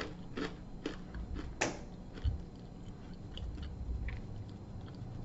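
Someone chews pumpkin spice Raincoast Crisps crackers close to the microphone, giving soft, crunchy bites and crackles in a loose rhythm over a quiet background, with no talk.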